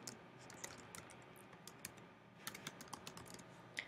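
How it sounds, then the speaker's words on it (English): Typing on a computer keyboard for a Mac setup with a Promethean interactive board: a steady, fairly quiet run of light key clicks with a few sharper taps standing out, no voices. "I can either type on the keyboard,"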